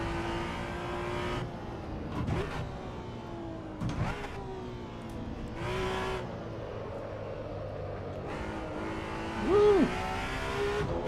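Race car in Assetto Corsa EVO, a game, with a strained engine note rising and falling through gear changes and a brief squeal near the end, steady and close, no voices.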